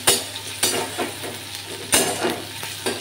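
Chopped onion and garlic fry in a pan with a steady sizzle, and sharp spatula scrapes and knocks come every half second or so, close and clear.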